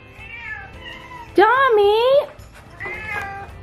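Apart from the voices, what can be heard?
cats meowing unhappily in their cages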